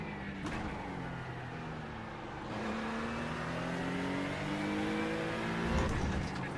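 A GT3 race car in the iRacing sim revs steadily, its engine pitch climbing through gears with upshift dips, a continuous moderately loud drone throughout.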